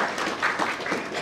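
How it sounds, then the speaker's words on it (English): A short burst of audience applause at a book launch event in Delhi: a crowd clapping together in a diffuse, steady patter. "Please give them a hand."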